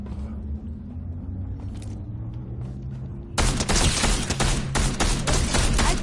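Gunfire in the Fortnite video game: a quieter stretch with rumble, then a sudden dense burst of rapid shots and impacts that stays loud to the end, with no voices.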